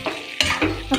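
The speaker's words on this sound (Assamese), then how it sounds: "এতিয়া মই কম ফ্লেমত এইখিনি ভাজি আছোঁ" A spoon stirs an Indian olive pickle mixture frying over a low flame in a wok with curry leaves, giving quick scraping strokes over a soft, steady sizzle, heard up close.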